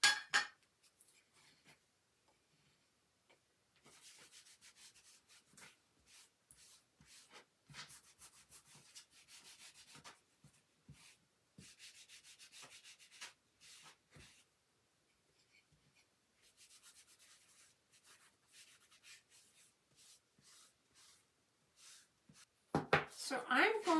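Wax brushed and rubbed over a chalk paste stencil in repeated short scratchy strokes, close and fairly quiet, with a voice talking over parts of it.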